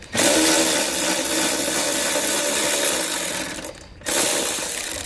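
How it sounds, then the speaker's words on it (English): A ratchet fitted with a 10 millimeter socket works a cargo hook loose beneath a 2020 Toyota, giving a steady, dense mechanical clicking that runs near and loud, breaks off briefly toward the end, then resumes. "remove our cargo hook using a 10 millimeter socket"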